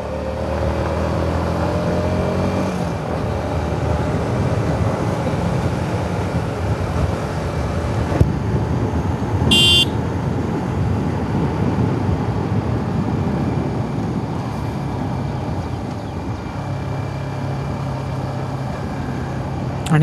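A Yamaha MT-15 motorcycle rides along a winding ghat road, its engine a steady continuous drone mixed with rushing wind, without voices throughout.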